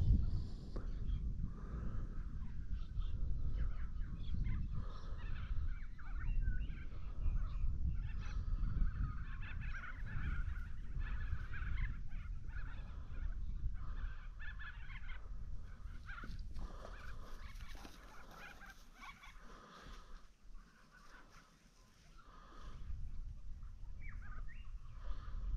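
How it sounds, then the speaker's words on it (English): Birds call outdoors on a calm morning, with geese honking repeatedly against a low background rumble. The calls are moderately distant and continue throughout. "Beautiful morning, birds are singing"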